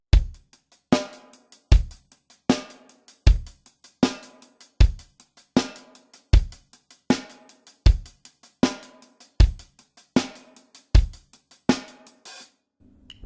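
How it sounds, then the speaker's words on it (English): A drum kit plays a steady beginner beat alone, with a 16th note hi-hat, bass drum and snare hits repeating evenly throughout. "Now this one, it's going to be a 16th note beat on the hi-hat."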